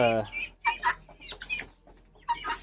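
Close, sharp clucking and chattering calls from guinea fowl come in several bursts, loud and harsh, with short pauses between them.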